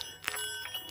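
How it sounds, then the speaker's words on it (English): Chinese meditation balls with small chime mechanisms inside give off soft ringing metallic tones, a few light strikes with lingering shimmer, close and quiet, with no talking. "there's a little mechanism in place that produces chimes"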